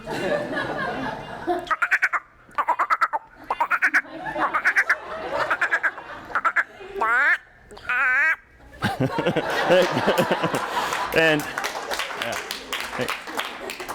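A human voice mimics frog calls, layered into a chorus of rapid croaks, chirps and trills, with short silent gaps between bursts.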